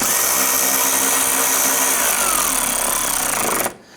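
Power tool whirring as it snugs the headlight mounting bolts on a Jeep Grand Cherokee, a close, steady drilling buzz for about four seconds before stopping abruptly, no talking.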